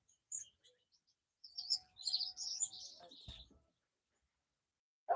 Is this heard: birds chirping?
yes